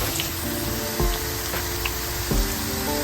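Large pieces of catfish roe fry in a pan with a steady hiss and sizzle, broken by a few soft thumps and crackles.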